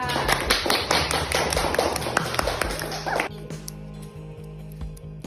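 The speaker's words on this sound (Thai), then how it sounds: "ปรบมือให้เพื่อนเราด้วยค่ะ" A classroom of students claps for a classmate, a burst of quick overlapping hand claps that fades out after about three seconds, leaving quieter room sound.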